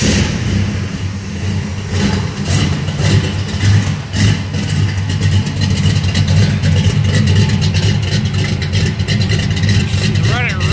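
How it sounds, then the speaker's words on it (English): A 1988 K5 with a new exhaust starts up and settles into a loud, rumbling idle with a few blips of throttle, steady and close throughout. "I'll fire it up real quick. Make a little bit of noise with it."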